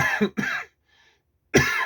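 Two quick, close coughs in a row, then a short silence before another loud burst of coughing.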